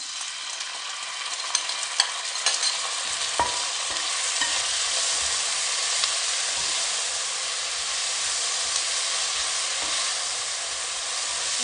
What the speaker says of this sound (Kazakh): Енді жаңағы мына соусымызды осыған құямыз.